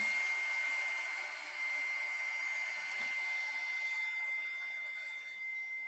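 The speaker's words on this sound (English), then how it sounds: "in order to melt it, I'm going to heat it up with my heat gun" A heat gun blows a steady whining hiss over embossing powder in an art journal, a constant mid-level drone with a high tone running throughout, no speech.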